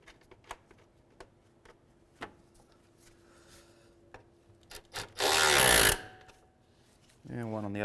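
A power tool drives 10mm bolts back into the top of the radiator fan assembly of a 2015-2019 Hyundai Sonata, a single short, loud whirring burst after scattered clicks of metal handling, with a voice starting at the end.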